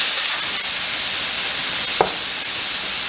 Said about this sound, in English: we're going to let that steam out for a few minutes until your gauge comes down all the way to 0